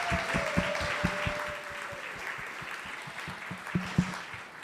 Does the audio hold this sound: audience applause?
yes